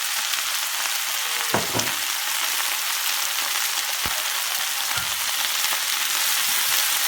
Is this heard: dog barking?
no